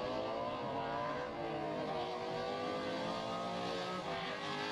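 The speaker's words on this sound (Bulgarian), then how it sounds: "Стартират двата автомобила, този път Павлин ще преследва" Two drift race cars start their run together at a 2015 drift event in Vidin, their engines making a steady, distant roar of revving that stays constant and fairly faint.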